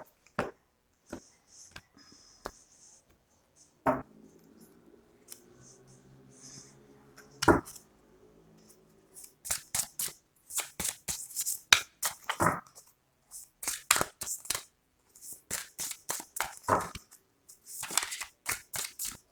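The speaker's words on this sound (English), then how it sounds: "Let's shuffle one more time." Tarot cards are shuffled in a series of quick riffling and snapping bursts, sparse at first and then rapid and repeated, close by with no talking.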